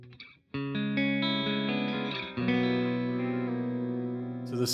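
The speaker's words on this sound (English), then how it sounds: "And then let's hear a similar setting now with square." Distorted electric guitar chords ring out through a delay pedal set to square-wave modulation, the repeats switching abruptly between two states; loud and sustained, with one brief break and restrike midway and no talking.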